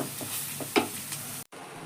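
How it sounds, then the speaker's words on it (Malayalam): Coriander powder being stirred into jackfruit curry masala in a pan, a soft sizzle with a few spoon scrapes, then a brief cut in the sound. "പിന്നെ ഇതൊക്കെ നന്നായിട്ടൊന്ന് ഇളക്കി കൊടുക്കാം"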